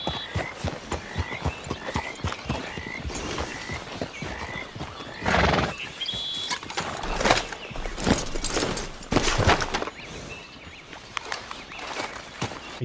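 Video game horse in Red Dead Redemption 2: hooves clip-clop in a steady walking rhythm, then the horse lets out a loud whinny and snorts, followed by more hoofbeats.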